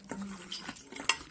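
Chicken being mixed by hand with a marinade of ginger paste, garlic paste, turmeric, cumin powder, salt and oil, giving brief wet squelching and a few light clinks against the bowl.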